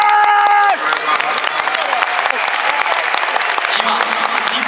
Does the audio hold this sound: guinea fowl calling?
no